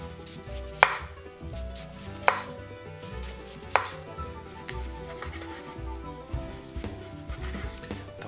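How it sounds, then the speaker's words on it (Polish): Knife slicing a lemon with its peel into thin slices on a board, sharp regular cuts about every second and a half over a low background hum, with no talking. "To ważne, by zarówno i cytryna, i cebula były pokrojone naprawdę na cienkie plasterki"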